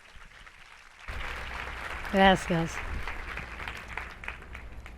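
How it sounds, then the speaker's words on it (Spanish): An audience applauds a woman taking the stage at a marketing talk in Madrid. A steady wash of clapping starts about a second in and carries on, with a short spoken word from a nearby voice over it. "Un aplauso para ella"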